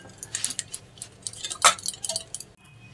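Yogurt (curd) being whisked in a bowl for an aloo pyaz raita gives a run of quick, light clinks and scrapes of a utensil against the bowl, with one sharper knock partway through, close and fairly quiet.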